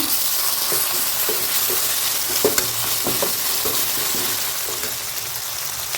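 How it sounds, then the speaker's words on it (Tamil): Ginger garlic paste sautés in oil in a pan, a loud continuous sizzle and hiss with scattered light scrapes and taps of a spoon stirring, close and without talking. "இஞ்சி பூண்டு அதையும் போட்டு நல்லா வதக்கிடலாங்க"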